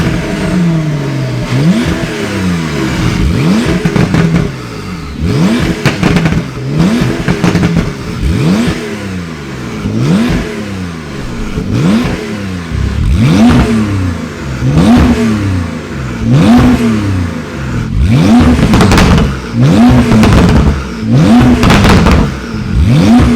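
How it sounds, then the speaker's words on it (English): Porsche 992 911 Carrera with an Akrapovic titanium exhaust and factory link pipes, revved hard again and again: loud rising and falling engine blips in a steady rhythm, close by, with no talking. "let me jump in the car and give it some nice full rev so you can appreciate how good it sounds"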